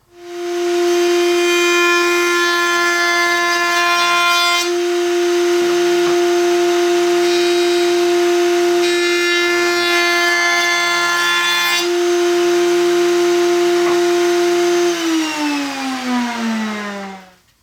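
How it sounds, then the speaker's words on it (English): A router on a router table runs a 3/8-inch round-over along the ends of a wooden BBQ grill scraper, a loud steady motor whine with the cut's pitch shifting as the wood passes, then the motor winding down at the end. "a round over on both of these ends, probably going to be a 3/8 of an inch round over, and we're going to do that over at the router table"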